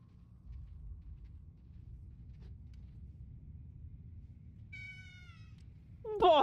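A kitten wails in World of Warcraft: two short, high meows come late, the second louder and more strained, over a quiet continuous low rumble.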